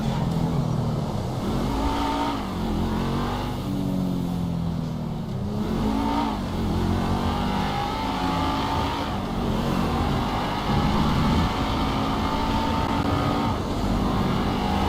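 A bus engine in GTA 5 drones and revs continuously while driving on a dirt road, its pitch rising and falling in repeated surges, loud and steady throughout with no talk.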